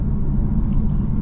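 A 2024 Infiniti Q50 Red Sport 400 with its V6 engine drives down the road, heard from inside as a deep, steady, rumbling drone with no one talking.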